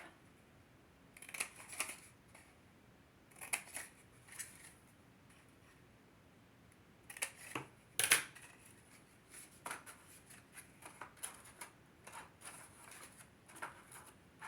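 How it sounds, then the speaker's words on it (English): Scissors snipping up the score lines of a paper tea cup, scattered bursts of crisp close cuts and paper rustles separated by quiet pauses, with one sharper snap midway. "Now we're going to cut up these score lines at the bottom so we can close our cup."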